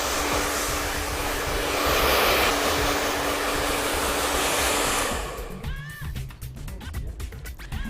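A handheld hair dryer blows steadily and loudly on hair for about five seconds, then cuts off, leaving quieter handling noises and faint clicks.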